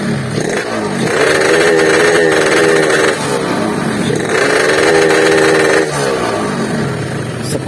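Yamaha RX-King two-stroke motorcycle idling loud and close, with two sustained revs rising and falling over the rough, buzzing engine note.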